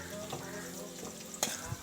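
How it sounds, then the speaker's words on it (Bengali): Sliced potatoes fry in hot oil in a kadai, giving a steady, close sizzle with faint stirring clatter and a sharp clink near the end. "তো আমার আলুটা ভাজাও হয়ে গেছে"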